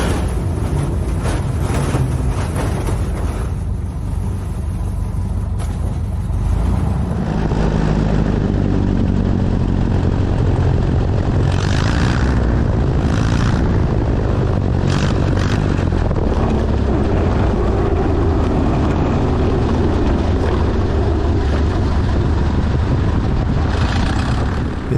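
A Super Cub bush plane lands on a gravel bar of big rocks, a loud continuous engine and airframe roar with rough, jolting rumble throughout, the noise building and staying dense after the first few seconds.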